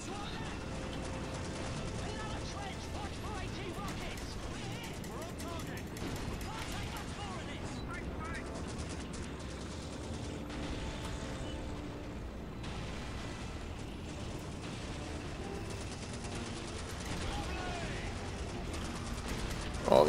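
Gunfire and heavy explosions from Call of Duty 2 during a tank battle in Libya, with continuous dense battle noise filling the scene throughout, busy and loud.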